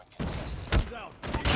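Gunfire in the mobile shooter Call of Duty Mobile, in bursts of loud shots with a brief lull between them, heard alongside excited talk from a player.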